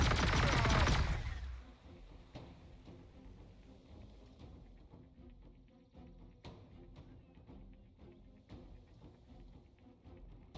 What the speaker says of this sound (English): Little strafing run there.